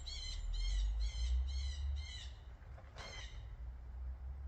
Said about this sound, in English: I don't know if you could hear the screaming bird in the background